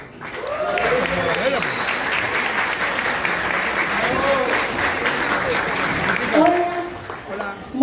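An audience at an intimate live concert in Barranco gives sustained applause welcoming a Peruvian singer, dense clapping with cheers and scattered voices throughout, lifting briefly near the end.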